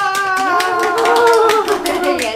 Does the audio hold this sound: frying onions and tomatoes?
no